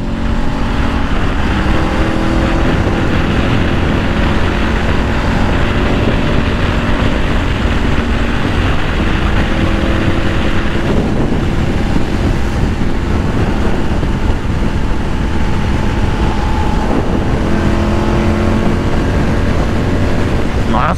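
A Honda NC 700 motorcycle cruises along a four-lane highway in the morning, its engine a steady, unbroken drone blended with rushing wind noise throughout.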